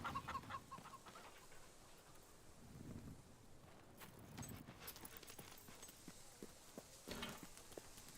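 Chickens cluck and squawk in the Fable 3 video game, with a few sharp bursts over a low farmyard ambience and some clip-clop-like thuds, no speech.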